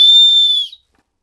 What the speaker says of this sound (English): you have a whistle here that you can use